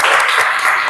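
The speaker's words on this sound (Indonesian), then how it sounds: "tepuk tangan buat kita semua" Dense clapping from a classroom of students during an Asmaul Husna lesson, a short loud burst of many hands filling the room with no speech on top.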